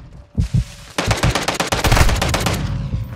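Rapid machine gun fire in a video game firing incendiary rounds: two quick shots, then a dense, loud, fast-rate burst of automatic gunfire lasting about two seconds, close and without speech.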